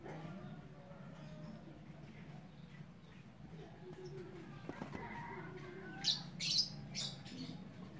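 Sooty-headed bulbuls in a captive breeding colony give a few sharp, bright chirps near the end over a quiet background, with faint murmuring voices low underneath.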